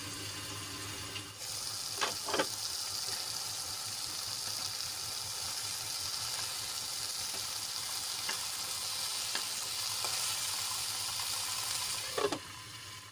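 Tomatoes cooking in a covered pan for raw mango chutney make a soft, even sizzle and bubbling hiss throughout, with a few faint clinks and a lid knock near the start and end.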